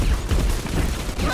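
Dense, continuous gunfire in BioShock 2, a rapid rumbling fusillade of overlapping shots that stays loud and steady for the whole short stretch.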